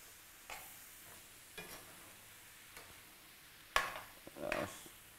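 Meat frying in oil in a home kitchen pan and being stirred for a Guyanese moussaka: faint, low sizzle broken by a few sharp clatters of a spoon against the pan, with quiet pauses between.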